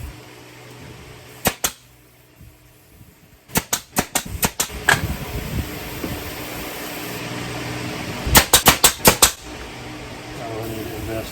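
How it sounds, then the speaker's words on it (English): A finishing nail gun drives trim boards on an outdoor kitchen build, firing in quick sharp clusters of snapping shots, two, then several, then a rapid burst, near and loud over steady background hiss. "I'm gonna try to get these trim boards on here with my finishing nail gun"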